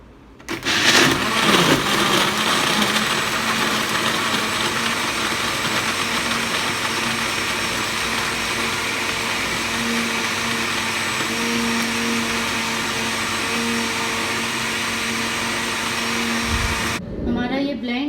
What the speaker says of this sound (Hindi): अब हम ब्लेंडर का ढक्कन बंद करेंगे और अब हम इसको चलाएंगे।